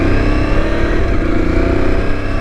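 An Aprilia Tuareg 660 motorcycle revs loudly up close as it shifts through gears with a quickshifter, giving a brief continuous engine note with slight dips in pitch.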